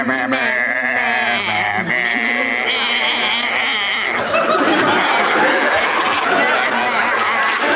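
Performers on a 1972 BBC radio comedy panel show sing a song as sheep, with voices imitating loud, wavering bleats and baas. An audience laughs and chatters beneath the singing throughout.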